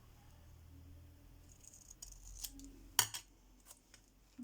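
Scissors snipping through paper card while making a folded card, a few close crisp cuts with small rustles in between.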